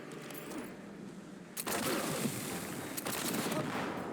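Rapid assault rifle fire from Cyberpunk: Phantom Liberty rattles in dense, fast bursts, a brief lull then a second sustained stream of shots, fairly close.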